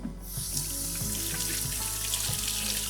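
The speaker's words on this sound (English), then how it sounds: "So we'll give those a quick wash." Green onions being washed under running tap water in a sink, a steady close rush of water with soft bumps and handling sounds, no talking.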